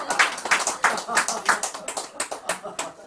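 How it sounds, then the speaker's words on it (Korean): An audience at a talk by a pastor who worked eleven years at the Kaesong Industrial Complex claps briefly in a close, uneven burst of hand claps with some voices mixed in. "이럴 때 좀 박수가 나와야 됩니다."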